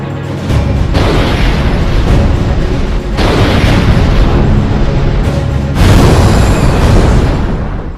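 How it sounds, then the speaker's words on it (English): Rapid volley of heavy railgun anti-asteroid rounds booming in the Ace Combat video game, a continuous loud rumbling barrage of repeated blasts with brief shifts in intensity and no talking. "Stonehenge responded with a volley of anti-asteroid rounds."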